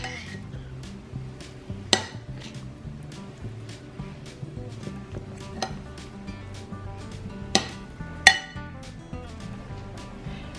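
A spoon stirs bacon bits into a crustless spinach quiche mixture in a bowl, giving repeated light clinks and scrapes with a few sharper knocks against the dish.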